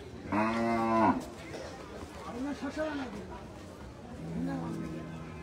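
Cattle at a Bangladeshi cattle market give a loud, drawn-out moo near the start, then quieter lowing calls follow among background chatter and crowd noise.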